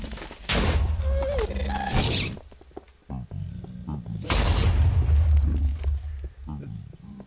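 Minecraft ghast fireballs in the Nether, heard as repeated heavy booming bursts that stand out loudly between stretches of talk.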